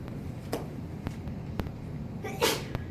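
One sharp sneeze near the end, heard over a low room hum with a few faint clicks and taps scattered before it.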